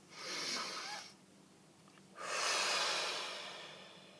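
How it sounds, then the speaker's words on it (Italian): A slow, deep breath, drawn in with a long airy hiss, a pause, then a longer exhalation that fades out, close and clear with no speech. "facciamo un bel respiro profondo"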